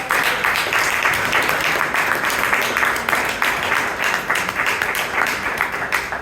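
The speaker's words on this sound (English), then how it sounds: "give a big round of applause" Audience applause at an evening Toastmasters club meeting in Bangalore, a steady dense wash of many hands clapping throughout, fairly loud and continuous with no talk over it.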